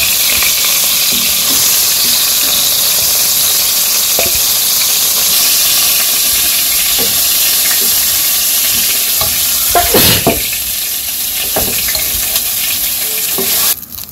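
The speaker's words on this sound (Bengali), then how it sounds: "মাছ ভাজা হয়ে গেছে আর নামিয়ে নেই" Fish fries in hot oil in a simple village kitchen, a loud, continuous close-up sizzle with occasional stirring clinks and no talk.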